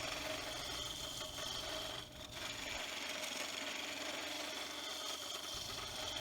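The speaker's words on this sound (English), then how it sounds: "Now I'm using a scraper." A scraper works a spinning pallet-block foot on a wood lathe, giving a continuous raspy scraping hiss over the lathe's low hum, close and steady with a brief dip midway.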